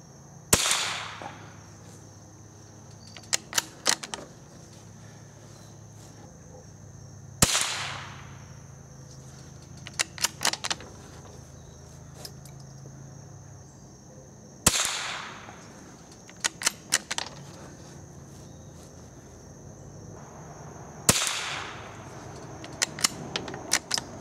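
Remington Subsonic .22 plated hollow point cartridges fire in a 5-shot group, four sharp cracks spaced several seconds apart, each followed by faint metallic clicks of the action cycling, with quiet ambience between shots.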